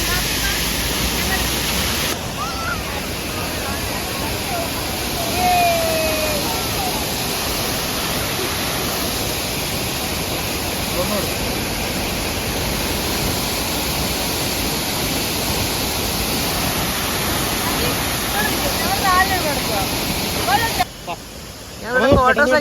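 A mountain stream runs down beside a road in Idukki, and its water makes a constant rushing wash, loud and close, with a brief shift in sound near the end.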